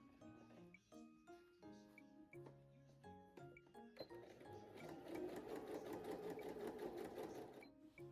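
Sewing machine stitching a band onto a boned corset, partly hand cranked: short separate bursts of mechanical whirring and clicks at first, then one longer, busier run of rapid stitching, close and fairly quiet.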